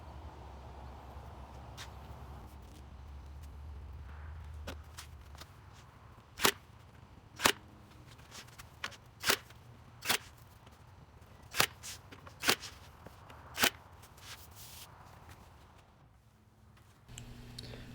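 Sharp, isolated nail strikes fire one at a time with irregular gaps while a guide strip is nailed and glued to the top of a plywood sheet, fairly close, over a quiet background.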